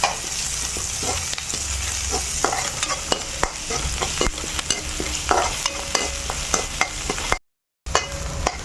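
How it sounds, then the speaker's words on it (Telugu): Green chillies, spring onions and curry leaves fry in a pan, a dense continuous sizzle broken by repeated sharp scrapes and clinks of stirring, close and fairly loud, with a short silent gap near the end. "కొంచెం ఉల్లికాడలు ఇవి ఉల్లిపాయలు కొంచెం కరిమాకు సరేనా ఇవి బాగా ఏగాలి మంచిగా"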